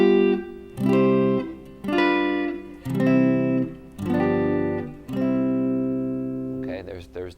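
Guitar chords move from dominant to tonic in several neck positions, strummed as about five sustained, ringing chords in a steady sequence, close and alone, with a short scrape at the end.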